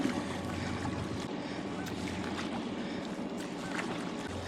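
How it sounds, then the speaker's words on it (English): A kayak paddles out from a shoreline on a cloudy, cold day near North Brother Island in New York City, with soft, steady water swishes and splashes, fairly faint and continuous. "All right, and we're paddling."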